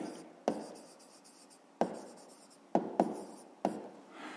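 A pen or pencil scratches an answer into a school maths notebook in short bursts of strokes, with about five sharper taps where it starts new figures, close and clear with no talking.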